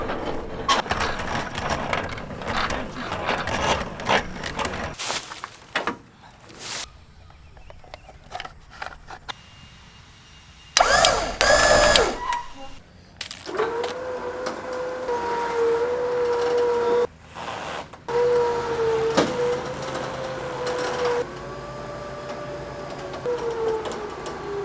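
Electric winch powered by a partly charged battery hauls a cheap truck up onto a trailer, a steady whirring motor drone with rising pitch and intermittent mechanical clunks, pausing and restarting, with no talk.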